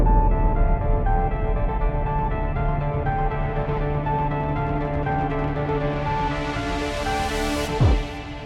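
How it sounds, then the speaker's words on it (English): A bat impact sound effect from the Legend HZ synth plays as a dense, loud, sustained tonal drone that grows brighter, then ends in a sharp hit that swoops downward in pitch. "I'm going to put the bat impact there again."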